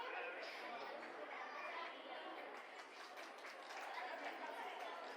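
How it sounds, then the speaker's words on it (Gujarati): A crowd at a school annual function and farewell ceremony applauds in a steady, faint wash of clapping mixed with background chatter, continuing evenly throughout. "તાળીઓ"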